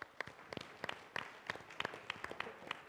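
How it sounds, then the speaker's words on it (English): Sparse, fairly faint clapping from a small audience at a tourism anniversary conference plenary session, a handful of distinct claps over a few seconds. "Give him a round of applause."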